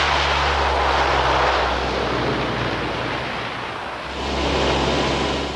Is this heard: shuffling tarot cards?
no